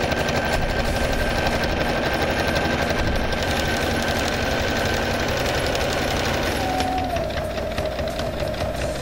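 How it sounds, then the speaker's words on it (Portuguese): Sewing machine stitching bias binding onto fabric for a car kit, a loud steady motor buzz running without a break. "Você costura até o finalzinho do tecido e você tem um acabamento no viés."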